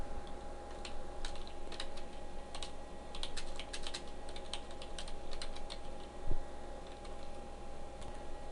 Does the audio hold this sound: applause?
no